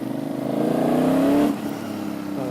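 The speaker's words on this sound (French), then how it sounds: "On est sur un bicylindre en V qui réagit." A V-twin motorcycle engine, restricted to 47.5 horsepower, revs up steadily in a loud, close climb lasting about a second and a half, then drops back to a throbbing idle before starting to rise again.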